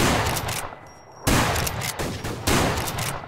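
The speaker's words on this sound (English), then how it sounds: "I hear shooting, I just can't see anymore." Gunfire in the PC shooter game Survarium: loud, close rapid bursts that come in about three volleys, each starting sharply, with a brief quieter gap near the start.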